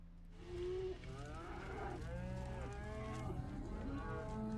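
Several cows mooing in a field near a home in West Virginia, long drawn-out overlapping calls close and loud, continuing steadily with no talking.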